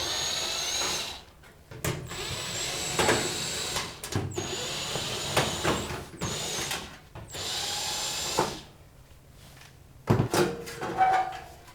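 Screws are being removed from the back panel of an oven during a heating element repair, giving bursts of close power-tool whirring and mechanical clatter separated by short pauses, with no talking.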